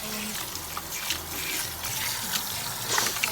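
Running water rinses bleach out of hair at a sink, a steady broadband trickle and splash that holds through the whole stretch with small spatters toward the end and no talk.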